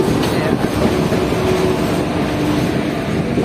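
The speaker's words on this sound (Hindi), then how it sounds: "जानकी एक्सप्रेस ये मनिहारी से जयनगर के बीच में चलता है और ये डेली पैसेंजर ट्रेन है।" The Janaki Express, a daily passenger train running between Manihari and Jaynagar, rumbles past close by in a loud continuous roar of wheels and carriages with faint rhythmic clatter.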